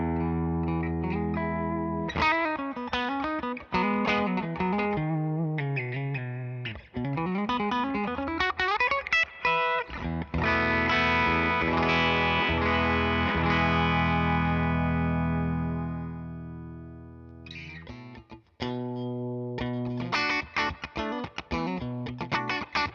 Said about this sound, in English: This is the D20, Rev D20 amp going to the Palmer 2x12 cab. Nothing is on, just a bit of reverb.